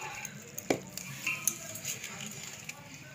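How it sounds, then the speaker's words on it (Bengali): Rice flour being stirred with water in a bowl for a traditional Bengali Nobanno dish, heard as scattered light clinks and scrapes of a spoon against the vessel, fairly close and soft, with faint background noise. "ভালো করে মিলিয়ে নেব নাড়াচাড়া দিয়ে একটু"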